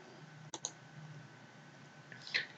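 A computer mouse clicks while the spot healing tool is applied in Photoshop: two close, sharp clicks near the start, then a softer cluster of clicks toward the end. Each is quiet and close against a low background hum, with no speech.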